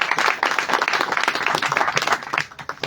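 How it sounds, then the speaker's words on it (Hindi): A church congregation claps joyfully for God, producing a dense, lively burst of many hands clapping at once that tapers off near the end. "तो आइए हम खुशी से परमेश्वर के लिए ताली बजाते हैं"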